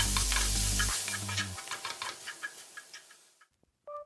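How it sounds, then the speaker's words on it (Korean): Onion, sea snails, green onion, chili and tofu stir-fry in a pan, a loud close sizzle with a rhythmic series of utensil taps and scrapes, fading out to near silence before a brief final clink. "양파, 골뱅이, 대파, 청양고추 넣고 달달 1분 정도 볶고 그 다음 두부 넣고 1분 볶기"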